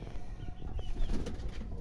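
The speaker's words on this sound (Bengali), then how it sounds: "ঘরের কবুতরের বাচ্চা" Pigeon chicks kept in a home loft, with soft wing flaps and faint cooing under a busy, rumbling room background over a couple of seconds; no speech.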